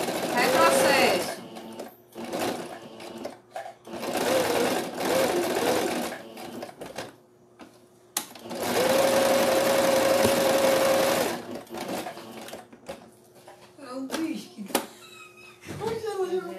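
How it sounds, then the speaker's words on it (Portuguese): A sewing machine stitches fabric for a handmade cloth doll, running in several bursts of rapid whirring mechanical chatter separated by pauses, close and fairly loud, with someone talking between runs. "vou passar agora a costura fechando meu sanduíche"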